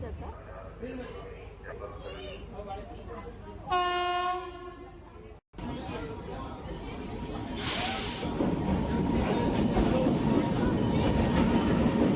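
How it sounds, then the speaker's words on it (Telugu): A train rumbles into a station, its horn sounding briefly, then wheels and brakes grind and hiss as it rolls closer and louder. "ఫైనల్లీ మా ట్రైన్ వచ్చింది."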